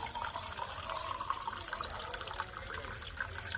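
Water pours slowly and steadily in a continuous, even rush with a faint trickling edge, close by, with no voices.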